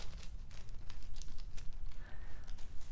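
Thin plastic grocery bags crinkle and rustle in close, irregular bursts while being looped into a chain to make plastic bag yarn.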